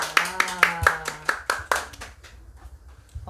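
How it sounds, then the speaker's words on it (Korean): A small group in a children's church class claps hands briefly, a handful of sharp, close claps in a quick burst that trails off into quiet room sound, with a voice heard early on. "박수 한번 쳐주자."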